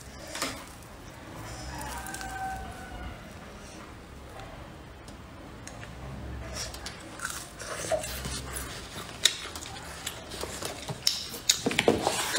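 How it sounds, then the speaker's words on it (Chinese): Eating a hot, freshly cooked corn glutinous rice cake, close soft biting and sticky chewing that grows busier toward the end, over a steady room background. "我们吃个玉米糍吧。"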